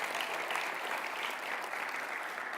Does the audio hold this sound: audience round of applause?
yes